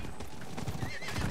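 A horse in the video game Diablo 4 clip-clops along with steady hoofbeats and gives a clear whinny, loud and close over faint game ambience.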